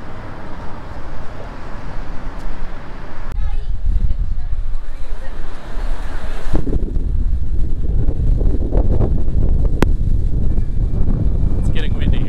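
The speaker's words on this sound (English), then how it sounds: "It's getting windy here." Wind buffets a baseball stadium ahead of a storm with lightning nearby, a steady roaring gust noise rushing across the microphone, growing stronger partway through and holding loud to the end.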